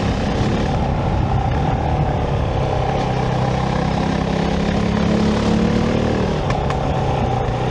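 Kove 450 Rally single-cylinder motorcycle (Euro 5) ridden at speed, a steady loud engine and intake drone with wind noise throughout, no talk.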